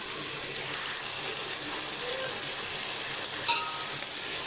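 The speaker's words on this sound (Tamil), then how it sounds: "ஒரு நடுவில் நடுவில் ஒரு மிக்ஸு கொடுத்துக்கிட்டே இருக்கணும் அப்போ தான் நல்லாயிருக்கும்" Chicken sukka sizzles steadily in a pan, a dense, even frying hiss with a faint scrape of stirring and one small clink near the end.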